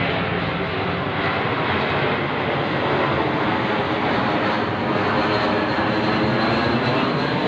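An airplane flies overhead with a steady, loud, broadband roar that holds constant throughout, with no voices.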